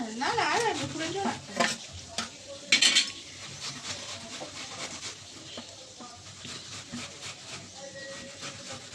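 Dried phasa fish being stirred and fried down in a pan, with scraping, clattering utensil strokes and a soft sizzle throughout; a brief burst of sharper metallic clinks stands out near the start.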